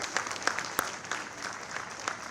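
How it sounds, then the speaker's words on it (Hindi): An audience at the launch of the Haryana State Environment Plan claps in a light, sparse burst, with individual claps clearly separated and fairly faint. "तालियां आप सबकी तरफ से।"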